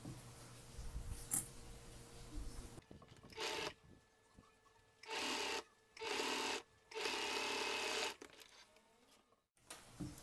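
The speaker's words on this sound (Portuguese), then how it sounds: "E vou encostar ele aqui e passar uma costura aqui" A domestic sewing machine stitches fabric for a cloth bag in several short bursts separated by pauses, its motor whirring at a moderate level.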